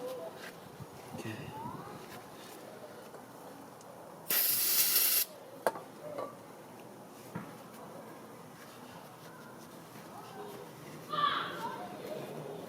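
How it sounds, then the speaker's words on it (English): Brake cleaner is sprayed onto engine parts of a 2003 Infiniti FX35 during an oil filter housing gasket replacement. One sharp hissing burst lasts about a second, and a shorter, fainter spurt follows later over quiet workshop background. "let's clean it up. Using brake cleaner."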